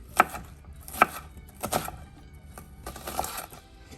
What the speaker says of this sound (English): we're not dicing this too fine, it's gonna be cooked up